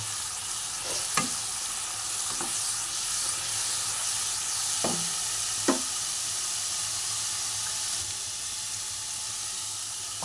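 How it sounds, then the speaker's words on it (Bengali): Spice paste sizzling and frying in a pan for koi fish curry with cauliflower and potato, a continuous hiss broken by several scraping strokes of a spoon stirring, no talk. "এইবার আমি এই পেস্টটাকে ঢেলে দিলাম, দিয়ে ভালো করে মিশিয়ে নিয়ে কষিয়ে নেব।"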